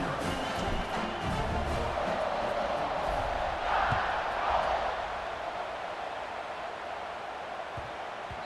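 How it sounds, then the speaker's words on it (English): A College Football 26 stadium crowd buzzes after a score, a loud, continuous roar of thousands of fans swelling briefly before easing back into a sustained hum. "this crowd is buzzing after that last score"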